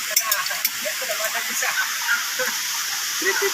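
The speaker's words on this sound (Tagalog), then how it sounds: "kumukulo na siya" Duck adobo in coconut milk boiling in a pot over an outdoor fire, a continuous hiss and bubbling with small pops, while someone speaks over it.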